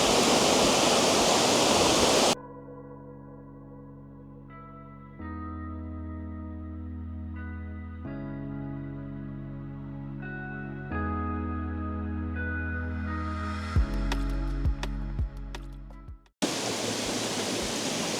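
Rushing water from the waterfalls at Rouken Glen in Glasgow roars as a loud, steady broadband hiss at the start and again at the end, with a gentle melodic passage in between.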